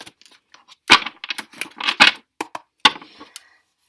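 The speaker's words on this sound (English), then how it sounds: "Let me get a good shuffle." A deck of tarot cards being shuffled close by, with crisp riffles and flicks arriving in uneven bursts separated by brief pauses, heard alone without any talk.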